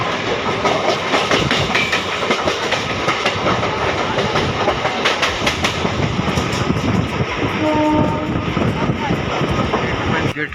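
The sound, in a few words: train at level crossing, horn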